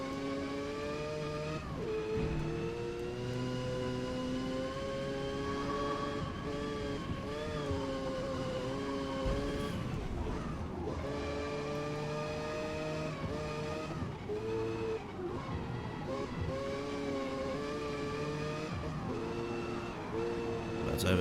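A tuned Mazda RX7 races in the Forza video game, its engine droning and climbing steadily through gear shifts with brief dips, loud and continuous throughout.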